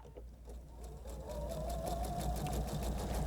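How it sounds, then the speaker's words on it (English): A home sewing machine runs steadily, stitching a scant quarter-inch seam through quilt fabric pieces for a flying geese block, with a close, even motor hum and rapid needle rhythm and no talking. "I'm going to take these to the machine now, and again, I'm just going to sew on the scant 1/4 inch."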